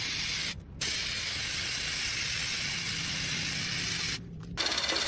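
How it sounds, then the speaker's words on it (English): Spray paint misting onto a stainless steel roof in a factory setting: a steady, loud, broadband hiss that holds continuously, broken by two short gaps where the spray cuts off, with a faint mechanical clatter at the end. "Spray paint drapes an inox roof in fresh color."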